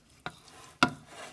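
Two sharp scraping stirs in a frying pan of curry meat with onions and garlic, a spoon against metal, over a faint sizzle.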